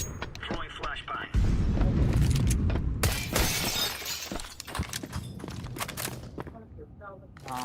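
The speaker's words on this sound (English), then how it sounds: "Throwing flashbang." Flashbang thrown in a Counter-Strike match between Team Spirit and Natus Vincere: a loud sudden blast with shattering noise and ringing, trailed by scattered gunshots as people talk over it.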